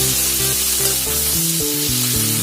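Chopped onion with garlic and ginger paste frying in a pan for a cauliflower curry, giving a steady hiss of sizzling oil beneath prominent background music with stepping melodic tones.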